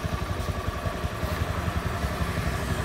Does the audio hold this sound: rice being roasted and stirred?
no